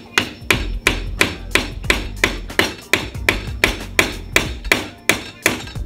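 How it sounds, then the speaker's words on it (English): A screwdriver is hammered into a broken plastic fitting on a reverse osmosis water system, about fourteen loud close metallic taps in a steady, even rhythm with no talking. "put the screwdriver somewhat towards the center of the fitting and then just tap it in."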